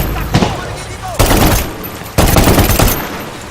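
Sustained automatic gunfire from the video game Medal of Honor Warfighter, with loud, dense bursts that swell at intervals over continuous battle noise.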